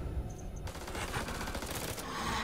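Rapid gunfire from phosphorus rounds in the video game House of Ashes, a dense, continuous burst of shots that fills the whole stretch at a steady loud level.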